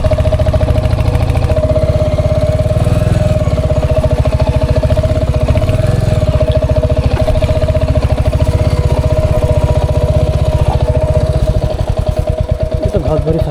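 A motorcycle engine on a rough off-road trail between Haridwar and Kotdwar in Uttarakhand, chugging loudly and close at a steady idle with a rapid, clattering pulse throughout.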